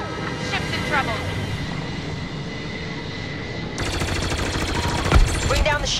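Rapid blaster fire and starfighter engine roar during a Star Wars Battlefront 2 space battle in the Unknown Regions, continuous dense bursts that intensify partway through, with a voice speaking over the action.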